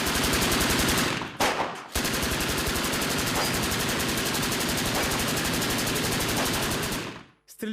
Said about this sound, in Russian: Стрельба как в экшн-фильмах